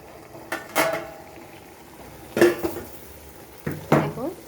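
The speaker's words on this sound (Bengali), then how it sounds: "এবারে আমি ঢাকাটা খুলে তোমাদেরকে দেখাবো" A lid comes off a covered cooking pot, giving several distinct metallic clanks and scrapes in separate bursts over a quiet background.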